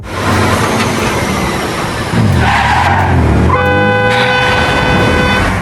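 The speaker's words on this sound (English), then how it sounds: "He managed to swerve just in time, narrowly avoiding disaster" A car makes a dangerous overtake and swerves on the road, heard as a loud rushing engine and tire noise with a skid-like sweep and a sustained horn blast.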